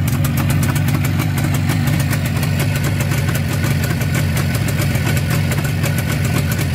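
A Jawa 638 motorcycle engine, bored out and fitted with quiet mufflers, runs steadily at close range with an even, rapid two-stroke putter and no talk.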